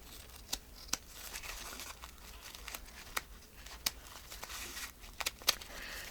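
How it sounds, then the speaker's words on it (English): Scissors snipping along the edge of a paper napkin, giving soft crinkling and tearing texture with a handful of sharp cutting clicks scattered over several seconds, close and fairly quiet, with no talking. "Let's go through and cut this side."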